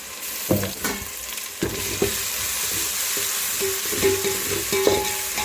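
A blended ginger, garlic and coconut paste fries in a pan with a steady sizzle, broken by repeated scraping knocks of a spoon stirring it, close and clear with no talk.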